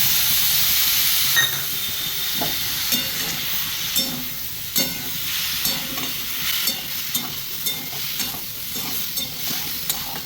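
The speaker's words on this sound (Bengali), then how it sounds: "মশলাটা আমার ভাজা হয়ে গেছে" Spice paste of turmeric, cumin and salt fries in a pan for a fish curry, giving a loud, steady sizzle and hiss broken by frequent stirring scrapes and taps.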